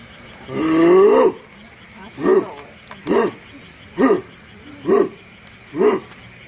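A person imitates a lion's roar on a zoo night tour, starting with one long moaning call and then giving five evenly spaced grunting huffs, each loud and close.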